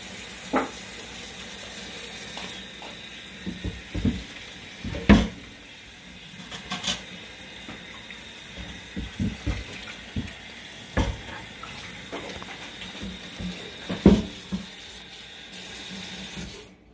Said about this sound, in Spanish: Vamos a lavar ahora la tabla.